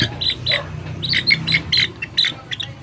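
A pet chick peeps in quick, bright chirps, about a dozen short calls in an uneven rhythm, close and fairly loud over a faint low background hum.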